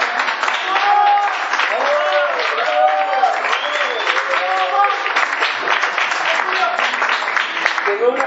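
A theatre audience claps steadily and loudly for two comedic performers, a dense sustained round of applause with voices and shouts woven through it.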